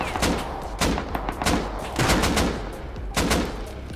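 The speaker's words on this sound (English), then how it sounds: "Why is he just shooting like that?" Gunfire in the survival game Rust cracks out in repeated irregular bursts of sharp shots at moderate distance, several volleys in quick succession.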